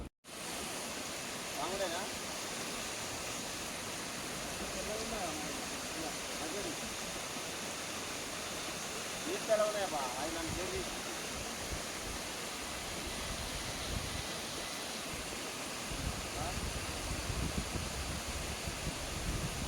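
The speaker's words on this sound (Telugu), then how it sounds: "నీళ్ళు పట్టుకున్నాడు ఇగో" Water flows steadily while someone fills water on a Kodaikanal trip, a continuous soft rushing hiss throughout with faint background sounds.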